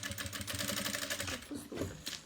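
Sewing machine running a straight seam while making a toiletry bag, a fast steady stitching rattle close by, slowing briefly near the end, with a voice talking over part of it.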